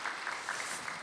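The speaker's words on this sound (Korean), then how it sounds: "큰 박수 한번 해주시기 바랍니다." A brief, soft burst of applause from a church congregation during a Sunday service, steady and fairly distant for about a second.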